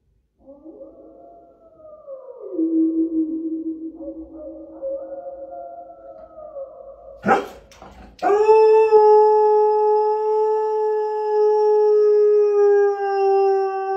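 Wolf howls come from a smart speaker, first softer wavering howls, then after a brief clatter a loud, long sustained howl holding steady to the end.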